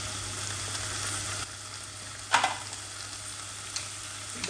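Chicken fillet frying in a skillet for homemade thin-crust pizza, a steady quiet broadband sizzle with a couple of brief clatters from stirring partway through, no talking.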